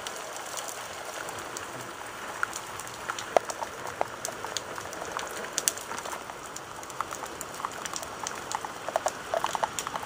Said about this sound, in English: Oh, it's coming down hard.